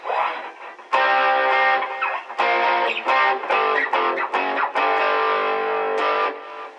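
An electric guitar through a Boss Katana amp with the booster mod on overdrive, loud gritty chords strummed in short bursts with sustained ringing notes between, close and without speech.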